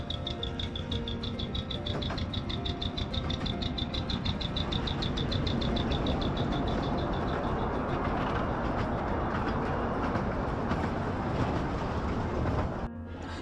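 A small toy train at Elephanta (Gharapuri) island rumbles along steadily, its engine droning with a rhythmic clicking in the first half, fairly close and continuous throughout.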